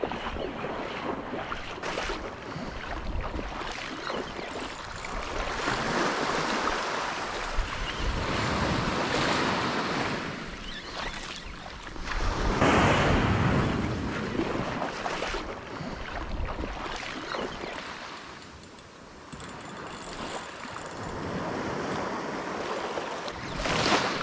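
Ocean waves break and wash continuously on a beach, a loud, broad roar of surf swelling and easing over about twenty-four seconds, with some wind buffeting the microphone and no talking.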